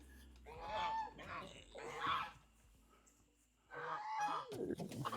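Chickens holler and squawk in loud, harsh bursts close by, with squabbling calls coming in clusters and a pause before another noisy outburst.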